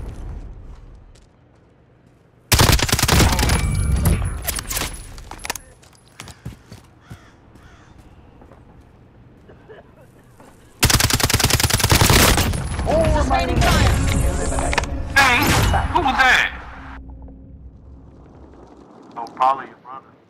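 Rapid bursts of gunfire erupt in a battle royale video game firefight, two loud sustained volleys of shots with a quieter stretch between, while players talk over the action.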